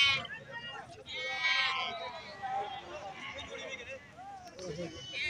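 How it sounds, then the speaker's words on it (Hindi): Sheep, including dumba fat-tailed sheep, bleat repeatedly at the Talagang livestock market in Pakistan. The calls come from several animals near and farther off, under someone speaking Hindi-Urdu and general market noise. "और ये कुछ भेड़ें खड़ी हैं, कुछ गबन हैं और कुछ खाली हैं।"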